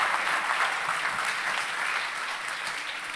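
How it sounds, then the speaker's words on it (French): An audience at a business school graduation ceremony applauds steadily, a dense sustained burst of many hands clapping that fades only slightly toward the end. "je crois qu'on peut vraiment les applaudir"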